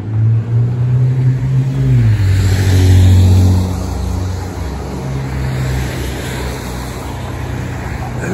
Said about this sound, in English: Hopefully there won't be too much traffic noise today.